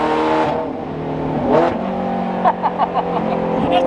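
A Ferrari engine idles loudly in the rain and then revs up, followed by a series of short throttle blips, close and rumbling.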